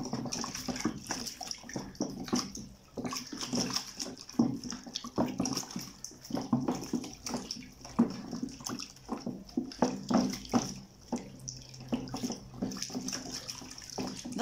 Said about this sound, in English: Then you just want to stir this until